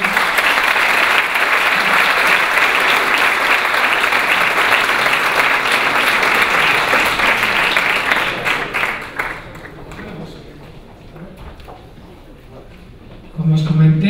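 Loud, sustained applause from a forum audience at a digital economy conference, dense clapping for about eight seconds that then fades to scattered claps and murmuring room noise, with a voice starting at the end.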